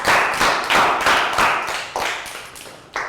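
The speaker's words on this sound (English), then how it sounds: "And round of applause for everybody for remembering well." A Year 3 class applauds together in a primary school maths lesson, a steady run of crisp, close hand claps in uneven bursts that fade out near the end before one last sharp clap.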